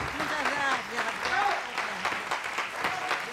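Audience applause in a 1995 Argentine comedy stage show, a steady wash of clapping running for a few seconds under overlapping voices and laughter.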